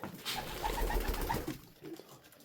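White carrier pigeons coo softly in a new loft, a steady close murmur of several birds that thins out toward the end.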